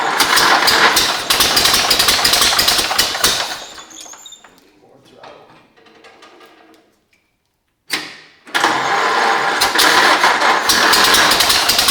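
A pre-war jalopy gow job car engine revs loud and rough for about four seconds, drops to a faint idle, stops, then bursts back into a sustained, loud revving run.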